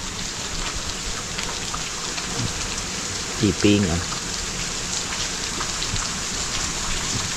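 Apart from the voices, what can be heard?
rain falling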